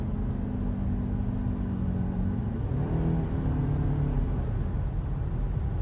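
A car engine pulls harder as the accelerator is pressed, heard from inside the cabin as a steady, close drone whose pitch shifts upward partway through, with no talking.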